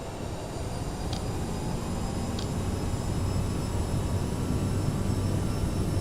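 Twin jet engines of an Aerosoft CRJ700 in Microsoft Flight Simulator spool up for takeoff at Vancouver, a steady, loud broadband roar with a faint high whine, holding continuous with two brief clicks early on.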